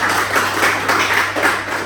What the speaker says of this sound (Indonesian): kita tepuk tangan untuk pertemuan kita